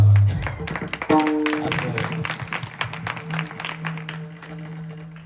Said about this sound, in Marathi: जरा टाळ्या मोकळ्या वाजवा